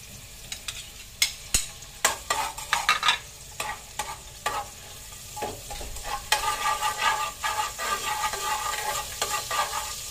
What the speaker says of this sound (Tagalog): Gigisay na natin yung bawang.